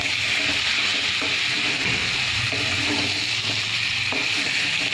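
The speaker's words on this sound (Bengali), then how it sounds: "এই তো চিকেন রান্না হচ্ছে, এখন কষা হচ্ছে চিকেন।" Chicken being sautéed (kosha) in a pan, giving a steady, continuous sizzle and frying hiss with soft stirring scrapes close by, no talking.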